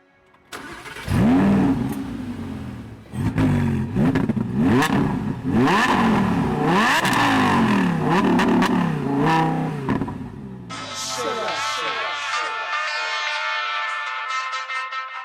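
Audi R8 V10 Plus with a naturally aspirated V10 of 610 horsepower starts with a sharp bark, then revs hard in repeated rising and falling blips. It settles into a high, steady, ringing idle toward the end, loud and close.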